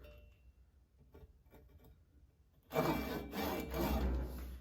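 A Ryoba Japanese saw's finer teeth score across a piece of wood, a loud, steady rasping that starts abruptly partway through and carries on to the end after quieter handling noises.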